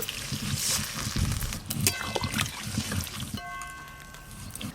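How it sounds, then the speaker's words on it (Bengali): Water is poured over fried pointed gourd in a hot pan. A dense, loud, close hiss and bubbling rush of sizzle eases into a quieter simmer toward the end. "এবার এই ভাজা পটলের ওপরে আমি পরিমাণ মতো জল দিয়ে দেবো"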